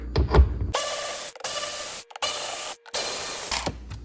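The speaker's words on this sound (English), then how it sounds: "So I'm using my Milwaukee 1/4" electric ratchet" A Milwaukee 1/4-inch electric ratchet with an 8mm socket backs screws out of a Jeep Compass fog light housing in several short, buzzing motor bursts separated by brief pauses, close up.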